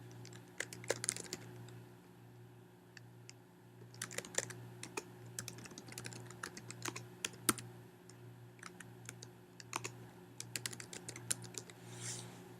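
Soft, close typing on a computer keyboard, irregular clusters of light key clicks spread over about twelve seconds above a faint background hum.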